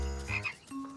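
Cartoon frogs trying to cross a street let out a quick series of croaks, some low and some higher, clear and close in an animated children's scene with no talking.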